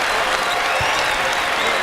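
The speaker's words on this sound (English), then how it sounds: "And listen to the crowd here." A basketball crowd at a Cornell at Buffalo game applauds loudly and steadily, a dense wash of clapping and cheering filling the arena without pause.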